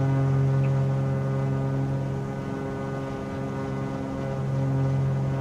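Beechcraft Baron twin propeller engines climbing steadily after takeoff in a flight simulator, a loud continuous drone with layered harmonic tones holding evenly throughout, no voices.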